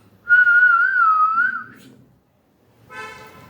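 A person whistles a wavering, tuneful note in imitation of the singing snake from an Australian folk tale, held for over a second, followed after a pause by a brief voice.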